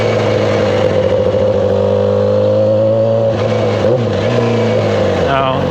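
Straight-piped Yamaha R6 motorcycle engine, a loud steady droning hum with strong low harmonics that shifts pitch near the end, heard up close while riding.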